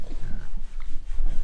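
Pigs in a barn grunt and snort in short rough bursts, close and fairly loud, with a few low oinks overlapping.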